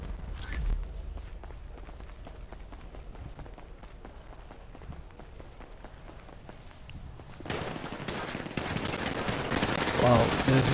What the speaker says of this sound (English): Wow, there's a shooting happens here.